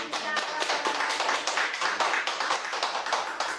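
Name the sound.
congregation's welcoming applause in church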